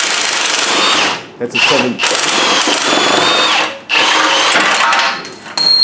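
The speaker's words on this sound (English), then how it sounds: "Now we're going to take the front motor mount bolt off." Power tool whirring in bursts while taking off the front motor mount bolt during a rusted subframe replacement on a Honda Accord, several loud near runs separated by short pauses, with a voice speaking briefly.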